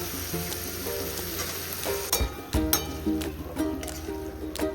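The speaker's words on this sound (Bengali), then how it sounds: "আমার চিকেন কষানো চলছে" Chicken being fried and stirred with spices in a pan, a steady sizzle with scraping stir strokes and a few sharper clatters partway through.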